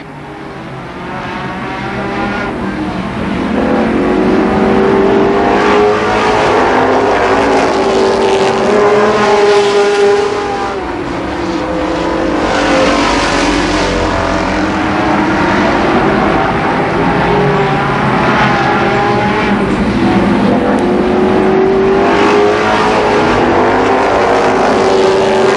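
Stock race cars roar around Columbus Motor Speedway in 1991, engines droning loud and steady as the pack battles down the back straightaway, pitch rising and falling as cars pass, with no talk over them.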